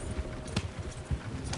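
Horse hooves clip-clop over uneven ground in the video game Red Dead Redemption 2, a few heavy thuds spaced irregularly beneath a steady background wash, close and moderately loud.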